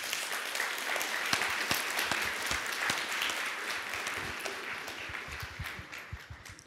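Sustained applause from a lecture audience, dense and steady throughout with a few sharper individual claps standing out, tapering slightly toward the end.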